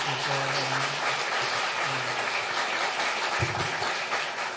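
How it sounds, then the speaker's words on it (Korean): Church congregation applauding at a Thanksgiving Sunday service, a steady, moderately quiet patter of many hands clapping that holds for several seconds, with a low hum and a few voices underneath. "우리 뜨겁게 다시 한번 박수 한번 해주시죠"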